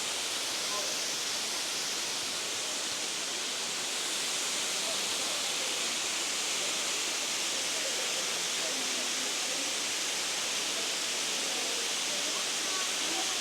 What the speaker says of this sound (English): We've had a lot of rain lately, so the water's flowing pretty good.